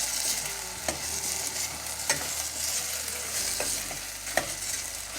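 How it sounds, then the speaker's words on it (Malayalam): Sausage sautéed in a pan for a quick pulao gives a steady close sizzle and hiss, broken by a few sharp scraping stirs, with no talking. "ഈ സോസേജിനെയും ചെറുതായിട്ടൊന്ന് വഴറ്റി കൊടുക്കണം"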